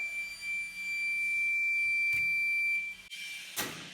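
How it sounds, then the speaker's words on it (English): A high, steady electronic alarm tone sounds continuously on an ultrasonic cleaning system to signal a passivation basket move, then cuts off near the end, followed by a couple of short clunks. "we're going to have an alarm here to move our passivation tank here in just a second."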